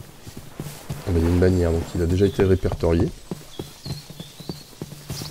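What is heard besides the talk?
horses in enclosures in video game Minecraft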